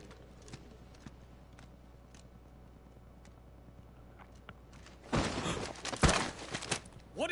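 Horse hooves clip-clop in the Final Fantasy XVI video game, starting partway through as a loud, dense burst of thudding steps after a quiet stretch of faint ambience.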